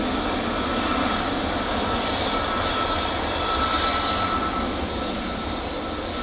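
An airliner from Punta Cana on final approach to Manchester Airport produces a steady, moderately loud jet engine roar, a continuous broadband drone with a faint whine that holds level across the whole stretch.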